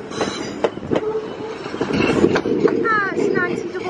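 A train passes through Crewe station with rumbling wheels, clicking rail joints and high wheel squeals, close and loud, while voices talk over it.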